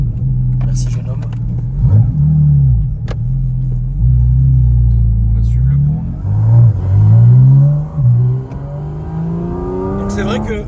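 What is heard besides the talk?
Porsche car engine sound while driving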